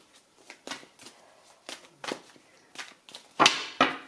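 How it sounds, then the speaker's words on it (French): Tarot cards are shuffled and handled in a series of crisp, papery riffles and slaps, about eight separate bursts at a fairly regular pace, close and clear, with the last two strongest. "Alors on va voir en recouvrant les cartes, voir ce qui nous est dit"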